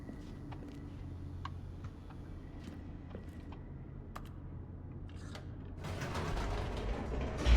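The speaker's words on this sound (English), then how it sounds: "The elevator raced downward, plummeting towards an unknown fate." Elevator mechanism descending in the Stanley Parable game, a low mechanical rumble and hum with scattered creaks and clicks, then a louder rattling swell near the end.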